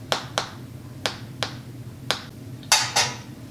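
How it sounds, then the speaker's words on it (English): A knife cuts around cake imprints in tins, making about eight short, crisp clicks and scrapes in an uneven rhythm, close and fairly quiet. "take a knife and cut around them. Cut around the imprints."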